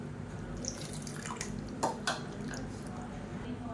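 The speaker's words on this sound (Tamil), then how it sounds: "இப்போ அந்த புளி தண்ணியை சேர்த்துக்கலாம்" Tamarind water is poured into a pressure cooker, a quiet liquid trickle with a couple of brief splashes and light clinks of metal vessels against a steady low kitchen hum.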